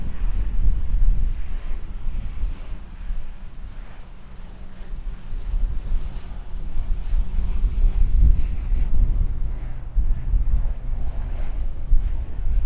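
Strong southwesterly wind of about 25 mph buffets the microphone at an open, exposed airport, a steady loud low rumble with gusty surges throughout and a faint aircraft drone underneath.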